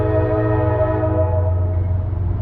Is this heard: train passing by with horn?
yes